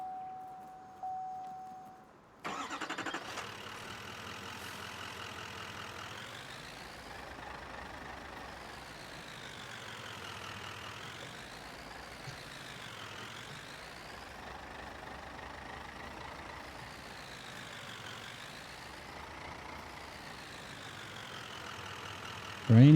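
A pickup truck in the video game Farming Simulator 19 starts up after a short quiet moment, then drives on with a steady engine drone that repeatedly rises and falls in pitch as it revs and shifts.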